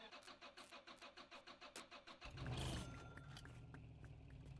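A car engine in the driving game Drive Beyond Horizons cranks with rhythmic starter pulses, then catches and settles into a steady mid-pitched idle, loud and alone.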